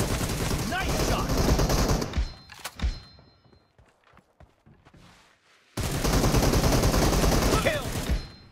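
Bursts of automatic gunfire in PUBG Mobile during a team deathmatch, loud dense volleys at the start, a quieter lull with scattered thuds, then another sustained loud burst of rapid shots.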